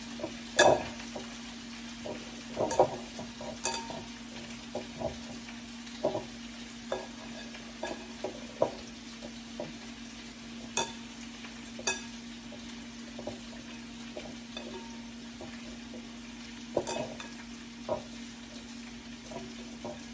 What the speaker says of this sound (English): Mixing the butter in.